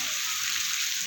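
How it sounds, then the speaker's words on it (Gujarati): Rain falls in calm, windless weather, a steady bright hiss of drops without pause and with nobody talking over it. "અત્યારે તોફાની નથી જોવો શાંત વાતાવરણથી વરસાદ આવે છે"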